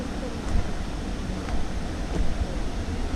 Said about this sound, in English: Do you hear that water?